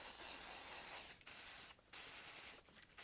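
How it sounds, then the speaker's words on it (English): Hairspray hisses from an aerosol can onto a wig in three close, steady bursts, the first long and the last two shorter, separated by brief pauses. "I'm going to spray her with some hairspray"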